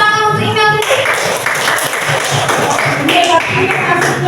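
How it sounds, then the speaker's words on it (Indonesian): Classroom applause with many hands clapping densely and fairly loudly, filling the room, with children's voices and chatter mixed in. "Ya, tepuk tangan untuk Imam itu"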